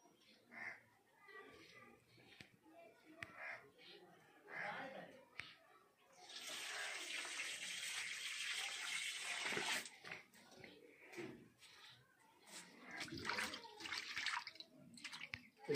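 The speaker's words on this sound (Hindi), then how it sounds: "मछली काट लिए, चलिए इसको धो लेते हैं।" Tap water runs over freshly cut Barari fish in the kitchen, a rushing gush of a few seconds between softer splashes and handling noises, while a person talks throughout.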